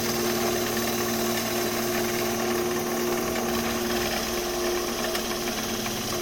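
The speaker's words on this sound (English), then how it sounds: "Usually do all my hollowing with my 3/8 gouge." A wood lathe spins a large, very tough wood piece while a 3/8 gouge hollows it, producing a steady loud motor hum with a constant grinding, rasping cut throughout, close up and with no voices.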